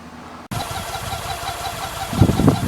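A BMW K75 motorcycle that has not run in a long while starts abruptly and settles into a steady running drone, with louder rough bursts near the end.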